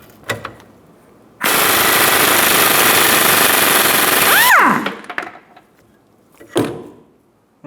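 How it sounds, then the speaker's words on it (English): A power tool, likely an impact wrench, spins a 17mm nut off the rear sway bar link of a 2014-2019 Toyota Highlander: a loud, close, steady rattling burst of about three seconds that ends in a falling whine, followed by faint clanks. "And remove the 17mm nut off of the sway bar link."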